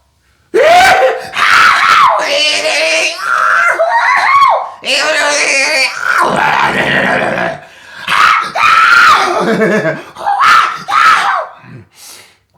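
A man screams loudly and repeatedly in long, strained vocal bursts with brief gaps between them, close and dominant throughout.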